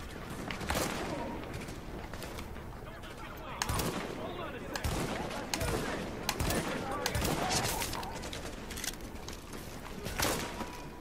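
Gunfire in the shooter video game The Division: dense bursts of rapid automatic fire and single shots crackle continuously, loud and close, with a voice talking over the shooting.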